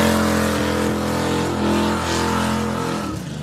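A big-engined old-school muscle car revs hard and steadily at close range for a burnout, a loud sustained engine roar with some tire noise running the whole time.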